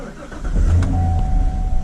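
A 2019 Corvette C7 engine starts up with a low rumbling crank that settles into a steady, close idle, with a faint whine on top.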